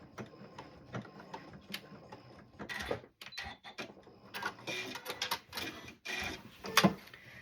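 A sewing machine runs a lock stitch on a gathered skirt pinafore, giving short bursts of quiet mechanical clicking and whirring, close and faint, with pauses between runs.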